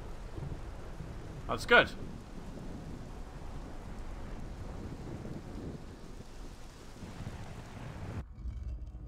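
Steady rain hisses in the video game Morrowind, with a brief rumble of thunder early on, while a voice briefly speaks over it.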